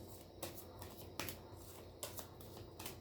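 Playing cards shuffled for a tarot-style reading: soft continuous riffling broken by several sharp bursts as the deck is bridged or cut, close and fairly quiet, with no voices.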